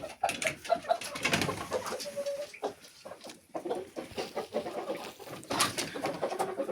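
Chickens on a winter farmstead cluck and murmur in a busy run of short calls at close range, with soft cooing tones mixed in and no talking.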